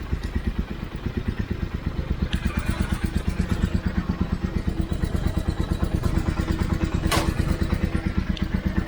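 A twin-turbo bobber motorcycle engine runs at a steady idle with rapid, rhythmic puffing from a leaking copper exhaust seal, close by and continuous, with a brief sharp click near the end.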